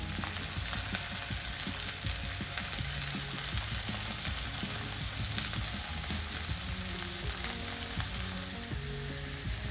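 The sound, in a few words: liver frying in a pan with sautéed onions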